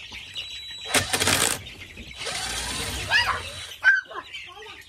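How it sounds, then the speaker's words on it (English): Young chicks in a chicken brooder give a few short, faint peeps and chirps amid rustling, a clatter near the door and people talking close by. "We're gonna let the chickies out."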